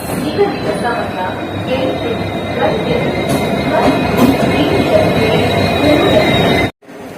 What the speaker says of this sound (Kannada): ಟ್ರೈನ್ ಬಂತು ನೋಡ್ರಿ